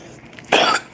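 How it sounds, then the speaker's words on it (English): A single harsh, close cough bursts out briefly after a moment of quiet. "I wasn't coughing until I started doing this."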